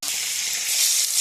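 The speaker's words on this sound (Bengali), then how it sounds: "এটাই জিরা ফোড়ন দিলাম" Cumin seeds are tempering in hot oil in a heated wok, sending up a loud, bright, continuous sizzle that holds steady for the short moment, with no voices.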